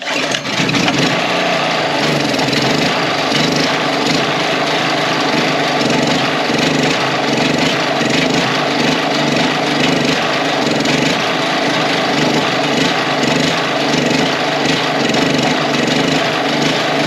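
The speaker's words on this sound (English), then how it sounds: "so the motor run good" An old generator's motor runs loud and steady nearby, a continuous rough engine drone holding an even pitch throughout with no one speaking.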